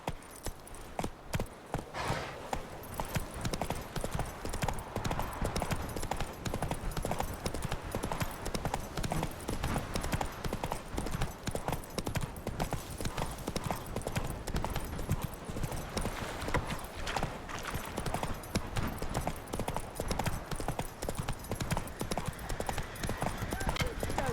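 Horse galloping in The Witcher 3 video game, a fast, continuous clip-clop of hooves running steadily throughout, loud and close, with voices speaking over it.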